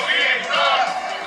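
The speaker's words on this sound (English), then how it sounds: "The European Tetris scene was known for their playful chants and taunts" European Tetris fans at a tournament roar and chant together, a loud, sustained crowd cry rising and falling over a little over a second.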